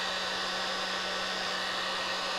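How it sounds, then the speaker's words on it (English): A heat gun blows over a freshly poured resin piece, a steady, loud, close, broadband whoosh with a faint motor whine underneath, running unbroken and with no other sounds. "use your heat gun really to kind of move it around and kind of push it in places."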